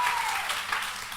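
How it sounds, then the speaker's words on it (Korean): An audience at an evening church conference breaks into steady, dense applause, one brief, close wash of clapping with no other sound standing out. "박수 한번 오케이."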